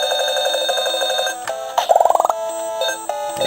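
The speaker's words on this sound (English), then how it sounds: "I'd like to turn off the sound because this ringing is kind of annoying." Tetris LED handheld game emitting shrill electronic beeping tones, a steady repeating pattern broken by a rising run of quick chirps midway, loud and close with no voices.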